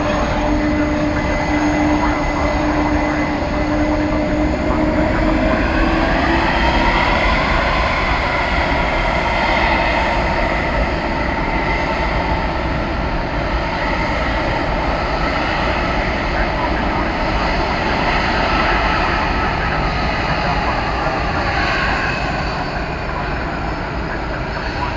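A jet aircraft departs DFW Airport bound for Argentina, a loud, sustained engine roar with a rising whine that fills the whole span and fades slightly at the end.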